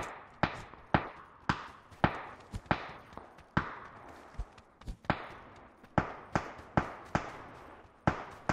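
Sharp gunshots ring out from a rooftop in PUBG on a snowy map, a rapid series of distant, echoing cracks in irregular bursts of two or three. They continue steadily without speech.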